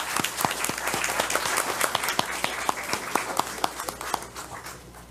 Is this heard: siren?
no